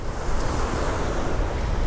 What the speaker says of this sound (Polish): wiatr wieje taki zimny troszkę